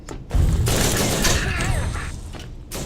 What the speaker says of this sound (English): The cannon packs a wallop per shot